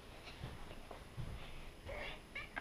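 A house cat gives a few soft, short meows close by, with faint shuffling and rustling in between.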